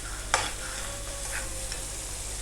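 Onions and spices frying in a pan with steady sizzling and a stirring scrape early on, close and continuous, with no talking.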